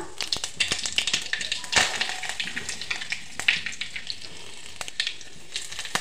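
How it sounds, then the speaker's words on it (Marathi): Mustard seeds, cumin and curry leaves sizzling and crackling in two tablespoons of hot oil for a Konkan veg thali, a close, steady fry with rapid sharp pops throughout. "आता मी राई घालत आहे 1 छोटा चमचा. राई चांगली तडतडू दे."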